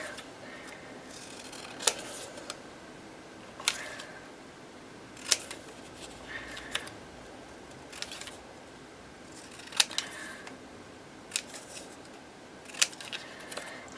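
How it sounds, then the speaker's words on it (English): Scissors trim around small paper labels in a quiet room, each sharp snip clear and close, repeating at uneven intervals. "Just going to trim around these little labels."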